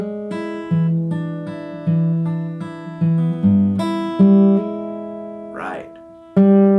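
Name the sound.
guitar fingerpicking with hammer-ons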